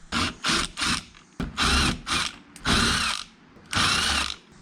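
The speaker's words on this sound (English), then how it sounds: "So let's get these bolts out and then we'll move on to the next step." Bolts on a C7 Corvette rear diffuser are spun out with a power tool in several loud, close bursts of whirring ratchet-like drilling, each about half a second long, separated by short pauses.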